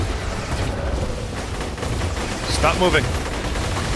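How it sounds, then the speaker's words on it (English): Autocannon fire in the video game Borderlands 2, a burst of rapid gunfire over steady game noise, with a player talking over it. "Autocannon."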